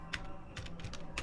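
A few quick keystrokes on a computer keyboard, close and fairly quiet, typing a short title in an uneven burst with no talking.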